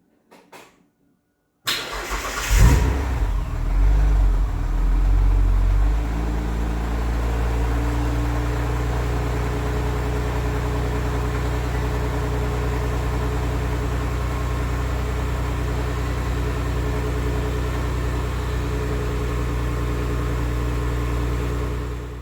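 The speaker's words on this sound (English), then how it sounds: "I'm just standing outside now while the car is idling" A Mitsubishi Magna engine cold-starts after a brief crank, revs up high for a few seconds, then settles into a steady, smooth idle heard close by outdoors with no talking.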